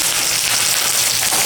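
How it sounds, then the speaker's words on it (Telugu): Asafoetida and curry leaves hit hot oil for a tempering for curd rice, giving a loud, steady, unbroken sizzle and hiss throughout with no talking. "కరివేపాకు వేసిన ఎక్కువసేపు తాలింపులు ఉంచకండి."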